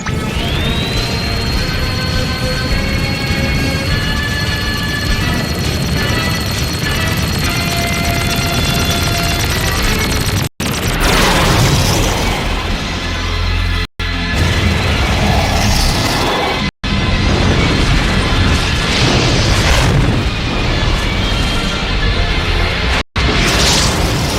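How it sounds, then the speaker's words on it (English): A Robotech anime battle scene fires its main gun, with a rising whine followed by continuous loud blasts, explosions and roaring effects through the clip, cut by brief dropouts. "Fire the main gun."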